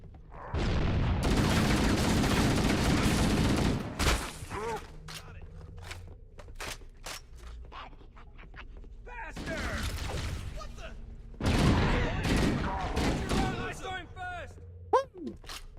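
Gunfire comes in several loud, dense volleys with short gaps between them, mixed with mechanical clicks and scattered softer sounds, and a voice speaks during the quieter stretches.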